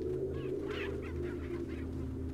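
Chickens in a village in the Resident Evil 4 game give a series of nasal, honking clucks, moderately close, over a steady low ambient hum and with no speech.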